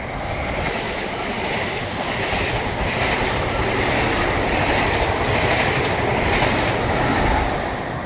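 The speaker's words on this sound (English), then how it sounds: "Clear of the platform edge, fast train approaching." A ScotRail class 385 electric train rushes fast through Edinburgh Gateway station. A loud, close, sustained roar of wheels and rushing air, with a faint clickety-clack, runs without a break. No voices are heard.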